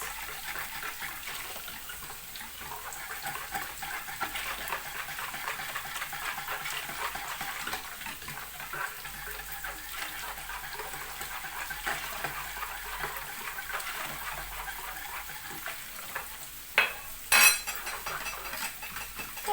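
A spoon stirs hot water from the pot into a yogurt soup sauce, giving a continuous clinking, sloshing swirl against the bowl, with a couple of sharper metallic knocks near the end.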